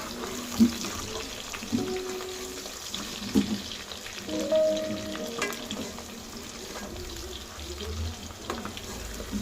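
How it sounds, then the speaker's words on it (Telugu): Ginger garlic paste frying in a pan for Hyderabadi-style chicken curry, a steady close sizzle broken by scraping and clinks as it is stirred, with a voice talking over it. "ఈ అల్లం వెల్లుల్లిగడ్డ పేస్ట్ వేసినాం కదా, ఇది బాగా ఫ్రై అయ్యేదాకా కలుపుతాం."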